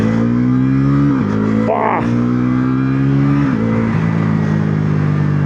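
A Bajaj Pulsar NS350Z motorcycle with quick shifter on and traction control off accelerates hard, its loud, close engine note climbing steadily and dipping briefly at two quick gear shifts.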